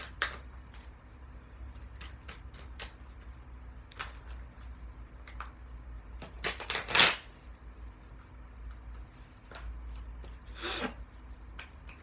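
Tarot cards riffle and slap in scattered bursts, with one sharp flurry of shuffling standing out, close up in a quiet room.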